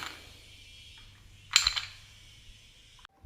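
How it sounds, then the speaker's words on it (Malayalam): Two ice cubes drop into a glass of homemade sugarcane-style juice with a sharp close clink and a short rattle of settling cubes, surrounded by quiet handling noise. "രണ്ട് ഐസ് ക്യൂബ്സും കൂടെ ചേർക്കാം."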